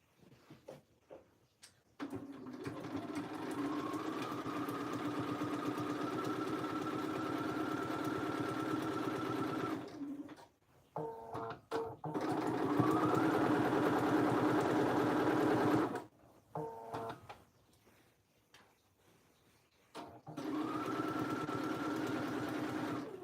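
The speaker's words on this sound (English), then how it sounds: "So now we're doing our shoulder seams." A sewing machine stitches the shoulder seams of a Belmore jacket in several runs of steady, fast, humming whir, separated by short pauses, quiet and close with no talking.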